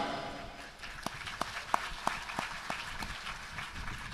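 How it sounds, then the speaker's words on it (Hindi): An audience at a ceremony honouring an international Tai commando figure claps in a steady rhythmic beat, the sharp claps repeating evenly over a murmuring hall ambience. "हमने ताली भी बजाई"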